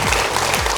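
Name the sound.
studio audience applause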